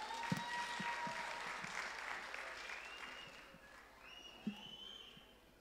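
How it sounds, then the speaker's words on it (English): A church congregation claps steadily in a dense wash of applause at a Sunday service, with a few faint cheers or whistles, gradually tapering off toward the end. "let's give him a round of applause"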